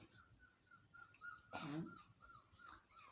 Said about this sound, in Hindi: ये कुत्ते का बच्चा है ना अपना।